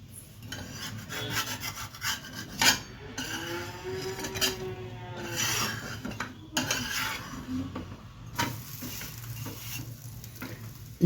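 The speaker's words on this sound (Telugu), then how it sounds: "ఒకవైపు వేగిపోయింది దీన్ని రెండో వైపు తిప్పుకుందాము" A sweet dosa made with Balamrutham fries in a pan, giving a steady sizzle with scraping and rubbing of a spatula as it is turned over. Nobody speaks.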